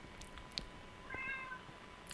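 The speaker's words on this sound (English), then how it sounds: "I hear kitty cats." Cat meowing in a Minecraft game, one short quiet meow near the middle over a low background hum, with a few soft clicks around it.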